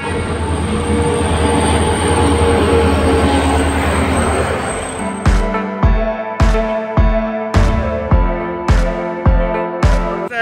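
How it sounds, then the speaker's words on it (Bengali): A train pulls into Dinhata railway station: a loud, close, steady rumble gives way to a rhythmic, repeated clatter of wheels striking rail joints as the carriages roll past, with no voices. "ট্রেন কিন্তু চলে আসছে।"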